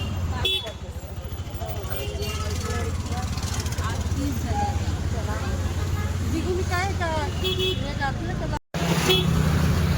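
Steady engine drone of an auto rickshaw on the move, with road noise and nearby voices and chatter throughout, a brief dropout near the end.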